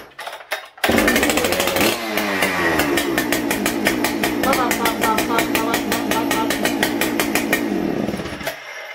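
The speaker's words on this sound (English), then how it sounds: "Best sounding saw stock ever." A 394 chainsaw fires up after a couple of pulls and revs loudly with a raspy, pulsing two-stroke roar, holding steady for several seconds before cutting off; a voice speaks briefly before it starts.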